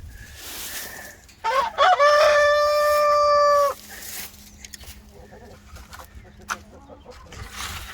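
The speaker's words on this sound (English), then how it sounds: "With the chickens scattered everywhere." A rooster lets out one loud, drawn-out crow near the coop. Scattered hens cluck and rustle softly before and after it, and no one speaks.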